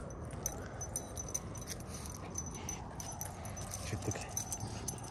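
Dogs at a dog park make faint whimpers and small yips amid jangling tags and soft rustling, heard close but quiet, with light background noise.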